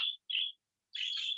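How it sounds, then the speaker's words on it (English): Pet birds chirp indoors: two short, bright, high chirps followed after a pause by a longer warbling call, close and fairly clear in a quiet room. "I have birds and they like to chirp a lot."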